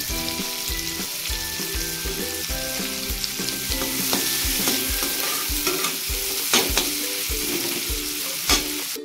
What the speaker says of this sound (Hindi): मैंने तेल और हींग डाल दिया, अब मैं डालूंगी प्याज।